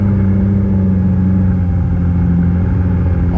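Formula Regional Americas race cars circulate at a slow pace behind a safety car at New Jersey Motorsports Park, their engines a steady, loud droning rumble throughout with no talking.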